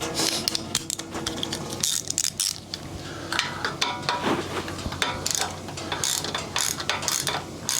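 A hand ratchet wrench snugs down intake bolts on the carb side of a 1995 Harley Evo Softail, giving dense, continuous clicking with brief pauses and metallic clinks, close and fairly loud.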